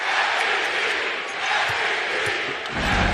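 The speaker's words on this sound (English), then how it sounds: "they're yelling MVP as though he is in Chesapeake Energy Arena" A dense basketball arena crowd on a road game for the Thunder roars steadily as the chant for MVP rises, loud and continuous, with no single voice standing out.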